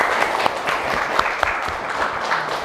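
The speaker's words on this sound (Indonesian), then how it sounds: "Oke, tepuk tangan buat kita semua." A school class applauds together in a dense, steady patter of many hands, with a few sharper individual claps standing out and no voices over it.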